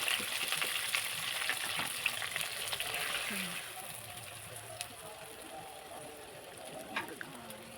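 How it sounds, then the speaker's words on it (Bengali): Chopped onion fries and sizzles in a pan with whole spices such as garam masala and cracked cardamom while it is stirred, a steady broadband hiss with occasional scraping clicks, louder in the first half and fading slightly later. "পেঁয়াজ কুচিটা দিয়ে আমি নাড়তে থাকবো"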